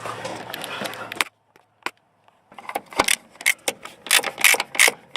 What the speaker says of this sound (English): Tighten the other side down, back and forth until I get it snug, so the shock doesn't get out of line.